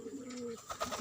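Pigeon cooing heard up close in a short burst, with low, rolling coos followed by a few brighter chirps near the end.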